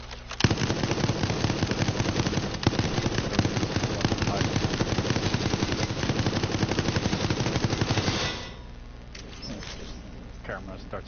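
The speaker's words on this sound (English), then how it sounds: "Camera starts unloading bullets at you." Security camera turret unloading bullets in the Resident Evil Resistance video game: a loud, relentless stream of rapid shots for about eight seconds that then cuts off, leaving quieter game sounds with occasional talk.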